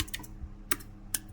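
Several keystrokes on a computer keyboard as a Linux file command is entered, with light, close clicks spaced irregularly over a faint background hum.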